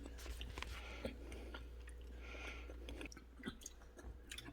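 Someone chewing a taste of homemade chili that has cooked about an hour, with soft, close, wet mouth sounds and a few sharper bites, quiet and without talk.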